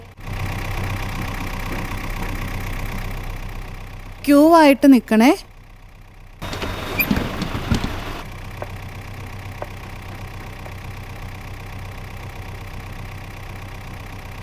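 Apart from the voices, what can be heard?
school bus engine idling as it arrives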